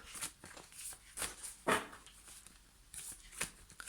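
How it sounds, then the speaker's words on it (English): A tarot card deck being shuffled by hand gives soft, quiet papery bursts at an uneven rhythm, with short gaps of near silence between them and no voices. "So this deck is a little bit harder to shuffle, so I'm doing this way"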